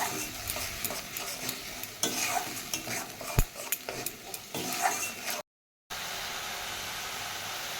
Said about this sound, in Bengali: পেস্টটা দিয়ে এটাকে কিন্তু অনেকক্ষণ ধরে কষাতে হবে